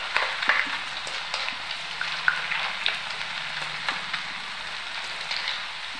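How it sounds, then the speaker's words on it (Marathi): Potato slices crisping in hot oil give a steady, moderate sizzle with scattered crackles and pops throughout, close up and with no voices. "तेल तापल्यानंतर त्याच्यामध्ये आलूच्या चकत्या सोडायच्या. क्रिस्पी होईपर्यंत भाजून घ्यायचे."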